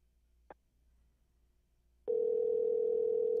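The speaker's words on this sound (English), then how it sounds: "Let's call this motherfucker Tanique." A steady, loud telephone dial tone starts abruptly after a brief click, continuing unbroken as a call is placed.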